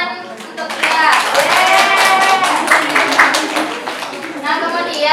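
Primary school students in a classroom clap together, a loud, close burst of many small hands with rhythmic patting, mixed with children's voices and chatter.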